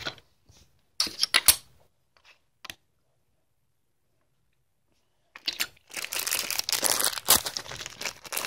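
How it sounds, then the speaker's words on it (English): A paper pamphlet holding team stickers is unfolded with crisp crinkles and rustles, first in a few short bursts, then after a quiet pause in a longer, busier stretch of handling close by; no one talks. "And then you open up the pamphlet, which has stickers in it."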